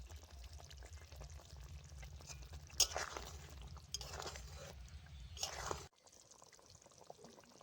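Ghee poured into a cooking pot of plantain and mung dal muittha dumplings with garam masala, giving a soft liquid pour over a low sizzle, with brief louder bursts before the sound drops off sharply near the end.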